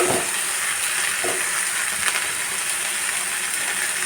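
Cluster beans with grated coconut stir-fry in a pan for thoran, a steady loud sizzle with a few soft scrapes and clinks of stirring mixed in.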